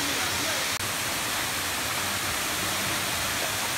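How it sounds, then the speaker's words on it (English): A human-made waterfall at an upstate New York site gives off a steady, broadband rush of falling water, close and continuous, with a faint tap near the start. "It looks like it's a human-made waterfall."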